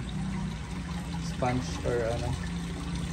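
Water falls steadily into a large protein skimmer filter at a crab farm, a constant rushing splash that runs throughout while someone talks over it nearby.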